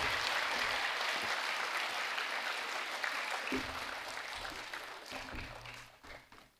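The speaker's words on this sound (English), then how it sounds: "Can we give them a big Gilson applause and welcome everybody?" Applause from a school chapel congregation of staff, students and parents for the school captains: a dense, steady wash of clapping that holds throughout, then thins and fades in the final second.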